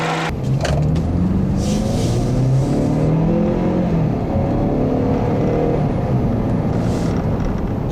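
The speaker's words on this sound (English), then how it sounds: "Let's take a look at how it drives through that 6-speed automatic transmission." 2014 Ford Escape Titanium with a 2-liter engine and 6-speed automatic accelerates on the road, its engine note rising and shifting through gears under steady loud road and cabin noise.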